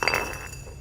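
A brief glassy clink rings out once and fades quickly, a glass beer bottle knocked against something nearby on a set.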